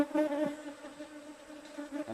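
Wild honey bees in a forest hive being opened for honey harvest, a faint, steady buzzing drone with slight wavering pitch, heard alone without talk.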